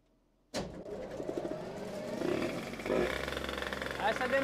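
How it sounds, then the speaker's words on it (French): A 50cc moped with a powerful 50 WR engine fires up abruptly after refueling, then idles and revs unevenly close by, with a voice talking over the running engine. "Ah, ça démarre tout de suite mieux."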